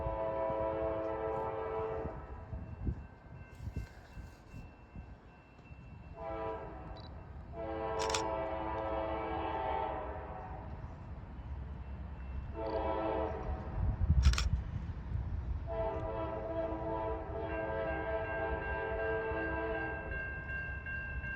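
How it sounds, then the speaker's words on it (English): A northbound freight train sounds a long series of loud horn blasts, several sustained chords separated by short pauses, over the steady rumble of the rolling train at a grade crossing in Tipp City, Ohio. "Lots of horn blasts there."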